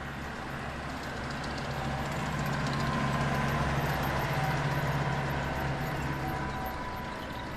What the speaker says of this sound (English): There goes our tractor.